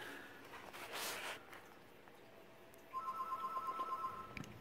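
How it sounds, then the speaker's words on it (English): A phone rings indoors near a grow tent, with a soft rustle early on before a steady electronic ringtone with a pulsing tone starts and continues at moderate volume. "Phones are ringing."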